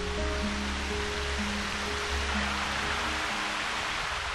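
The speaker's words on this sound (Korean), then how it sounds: "1년 내내 비가 오지 않아도 마르지 않는 폭포입니다." Constant rushing roar of a waterfall on Christmas Island that never dries up, steady and unbroken, with a faint low hum underneath.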